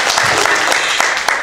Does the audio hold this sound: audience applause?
yes